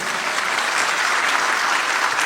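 A church congregation applauds in a steady, dense burst of clapping that fills the whole moment at close range, with no talking over it.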